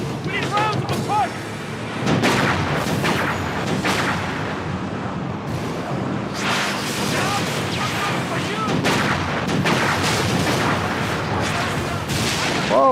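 Gunfire and booming blasts fill a battle in the sci-fi shooter Halo: Reach, a steady dense barrage of shots and explosions with shouted voices over the combat.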